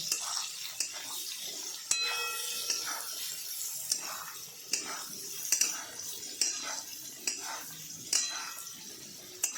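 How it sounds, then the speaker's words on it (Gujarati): Sugar stirred into a potato bite mixture in a bowl: steady scraping and mixing close by, with repeated sharp clinks of utensil against the dish throughout. "હવે તેને મિક્સ કરી લેવાનું છે આ રીતે તેને મિક્સ કરી લઈશું"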